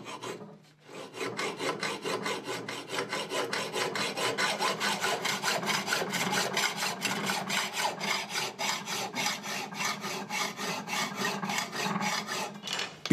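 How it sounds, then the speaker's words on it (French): A hand saw cuts a piece of flat bar to size in fast, even back-and-forth strokes, a close rasping rhythm that runs steadily without a break after a brief start. "Sciez-le ensuite à dimension."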